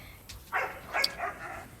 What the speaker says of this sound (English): They're fussing over there